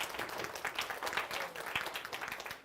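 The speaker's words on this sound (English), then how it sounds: "give this gentleman one more big round of applause, my young people" A school luncheon audience of young people gives the gentleman speaker a round of applause, a dense, even clatter of clapping heard from a little distance and fairly quiet.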